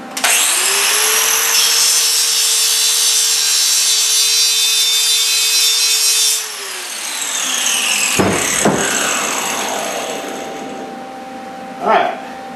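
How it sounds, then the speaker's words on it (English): A power grinder strips paint off a steel propane tank before welding. It is loud and close, with a steady high whine and abrasive grinding for about six seconds, then winds down, followed by some clanks and handling noise. "I grind a little bit of this paint off"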